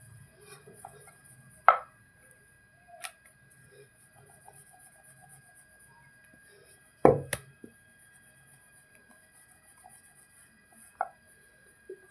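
Parotta dough being cut finely with a knife on a board, a few sparse, sharp chops and knocks separated by long quiet gaps.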